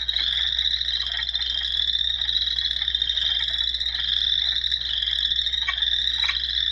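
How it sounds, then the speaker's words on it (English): A male wood frog calls steadily in a dense chorus, a continuous throaty quacking rasp with faint higher peeps from chorus frogs mixed in, fairly close and unbroken throughout. "The wood frog has two vocal sacs, so you'll see one come out of each side here as he calls."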